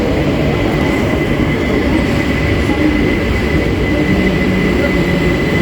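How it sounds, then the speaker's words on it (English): A train pulls into Wapping railway station in London, a loud steady rumble of wheels and carriages with faint brake squeals, close by and continuous throughout. "literally my next train is about to arrive"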